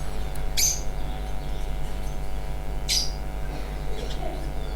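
A pair of pet birds, a green Fischer's lovebird and a cockatiel, gives two short, sharp chirps a few seconds apart over a steady low hum and background noise.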